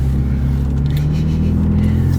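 A Toyota Tacoma pickup truck drives with freshly installed new brakes, its engine giving a steady, loud low rumble with mild revving throughout, close and continuous.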